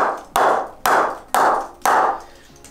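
A bat mallet knocks four times on the face of a Gunn and Moore Diamond cricket bat (2022 model), giving evenly spaced, sharp, loud wooden taps with short ringing decay, close up and with no talk.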